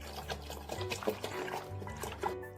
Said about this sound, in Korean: 이제 2차 발효를 넘어가기 위해서 물을 가득 부어줍니다.